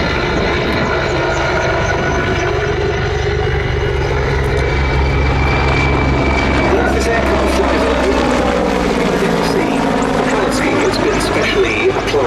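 A Czech Mil Mi-35 Hind attack helicopter of the 221st Helicopter Squadron flies a display at the Duxford Battle of Britain air show, its loud continuous engine and rotor roar shifting in pitch as it manoeuvres, with speech heard over it.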